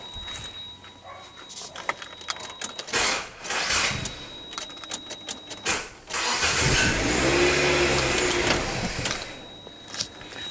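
A 2008 Nissan Sylphy with an O2 heater circuit fault and a short in its wiring harness has its engine cranking and running unevenly, with stuttering, surging and rattling as the harness is shaken nearby.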